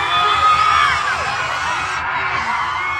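A crowd at a party in Belém screams and cheers continuously, a dense, loud wash of shrill shouting and whooping voices without a break.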